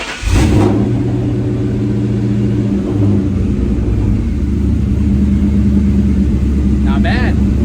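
A Ford Mustang engine idles with a steady low rumble after a brief burst at the start, continuing evenly throughout with a faint chirp near the end.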